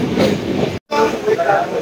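A passenger train travelling between Thane and the Konkan coast, a close, loud rumbling drone from inside the coach, briefly cut by a moment of silence before resuming, with indistinct voices mixed in.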